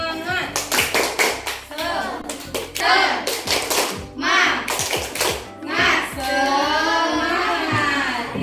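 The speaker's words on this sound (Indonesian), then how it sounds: "Tepuk semangatnya dulu" Children performing a rhythmic tepuk semangat spirit clap in a classroom, with sharp unison handclaps in quick patterned bursts alongside loud chanting voices.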